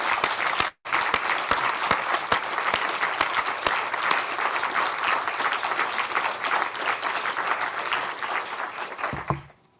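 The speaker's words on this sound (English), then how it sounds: "So please, one more round of applause." An audience at an inaugural professorial lecture breaks into loud, sustained applause, a dense wash of clapping with distinct sharp claps, briefly cut off near the start, then fading and stopping at the end.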